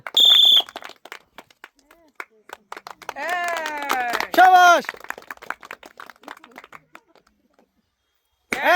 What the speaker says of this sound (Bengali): ওনার জন্য জোর একটা হাততালি